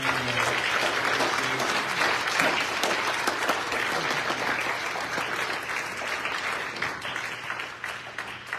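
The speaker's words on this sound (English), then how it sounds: "Can we give this family a hand?" Church congregation at a family dedication applauding warmly, a sustained round of clapping from a full room that gradually thins toward the end.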